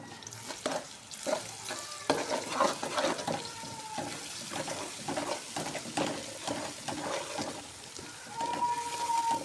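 Ginger garlic paste frying in a pan while being stirred, with scraping spoon strokes and a steady sizzle throughout, some clinking and water-like sounds mixed in.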